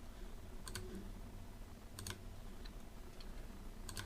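Typing on a computer keyboard to enter an expense record, three sparse clusters of quick, crisp key clicks over a steady low room hum, with no voice present.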